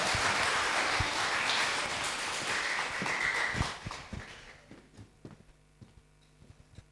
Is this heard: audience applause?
yes